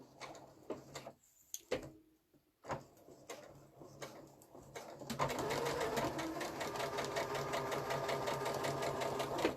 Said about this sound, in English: I'm just holding that seam down so that it doesn't get flipped up when I sew across it.